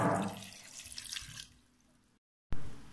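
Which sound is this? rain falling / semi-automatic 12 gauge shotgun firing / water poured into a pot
water poured into a pot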